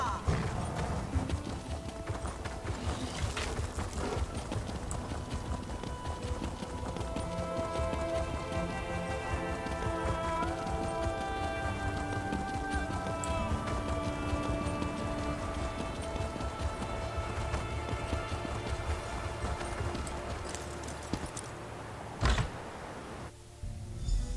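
Horse hooves clip-clop steadily through a video game scene, with a dense ambient music and sound bed behind them; moderately loud and continuous, with no talking.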